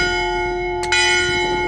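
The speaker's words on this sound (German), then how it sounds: "die Glocke ertönt zu jeder vollen und zu jeder halben Stunde." Church bell of Ihlow monastery in East Frisia striking once, a loud clear metallic clang with a long ringing hum sustained before and after the strike.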